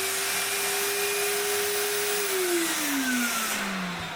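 A V-TUF Sprayex HDV spray extraction vacuum runs continuously with a loud, steady motor whine, its pitch holding and then sliding lower near the end as the load on the suction changes.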